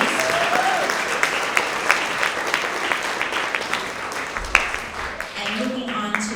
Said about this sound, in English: Let's have another round of applause for all of our Tigers of the Quarter